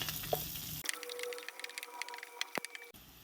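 Green chillies, curry leaves and onion hit hot oil in a pan, giving a bright crackling sizzle with scattered pops and one sharp spit, continuing steadily without talk.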